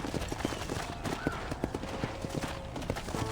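Rhythmic clip-clop of horse hooves trotting in the video game Red Dead Redemption, steady and fairly close, heard quietly with no voices.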